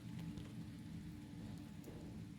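Light drizzle falls outdoors, a faint, steady patter and hiss of small drops with a low rumble beneath, and no voices.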